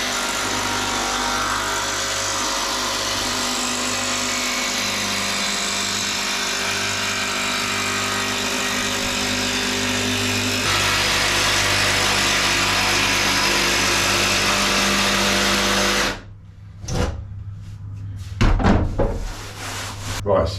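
A power saw fitted with a fine blade cuts through a wood panel in a long, loud, sustained whine close by, then winds down and stops, followed by brief knocks and shuffling.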